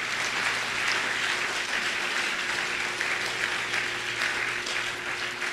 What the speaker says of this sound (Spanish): Dale más fuerte ese aplauso al Rey de Reyes y Señor de Señores.